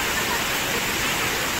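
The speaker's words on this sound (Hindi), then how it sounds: "ये पूरा वाटरफॉल्स आ रहा है यहाँ पे" A waterfall in the hills near Mussoorie, heard as a loud, even, continuous rushing hiss of falling water, close by and unbroken for the whole stretch.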